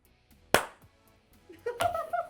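A single sharp hand clap rings out close and loud, followed by a faint second hit and brief laughter-like voice sounds.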